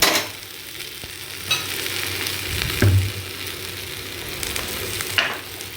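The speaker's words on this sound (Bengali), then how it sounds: "বেশ ভাজা ভাজা হয়ে গেছে এটা।" Spices fry in a pan while being stirred, a steady close sizzle broken by a few scraping clatters of the spoon against the pan, with no talk.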